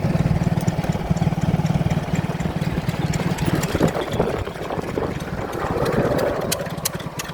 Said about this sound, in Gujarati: છે ને મશીનો ચાલુ છે પાણી લેવાનું.